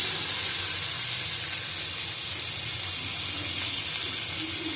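Water is poured into a pan while hilsa fish curry with green banana and potato cooks, a steady hiss and splash like running water over faint sizzling, with no talk.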